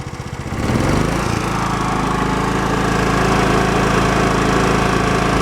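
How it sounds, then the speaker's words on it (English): A Honda EB3000 portable generator surges from an uneven, sputtering idle up to a steady, loud running drone within the first second, then holds a constant engine hum once a light is plugged in. "Now watch, I'll plug the light back in, and it'll idle right up."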